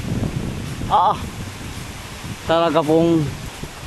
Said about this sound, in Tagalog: Walang tigil ang ano hangin na yung.